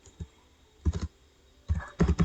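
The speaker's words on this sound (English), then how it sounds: "I'm going to type in something." Keys clack on a computer keyboard while typing text in Microsoft Word, with two short clusters of close, soft keystrokes separated by a brief pause and no talking.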